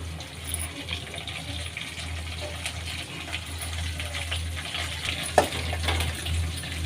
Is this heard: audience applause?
no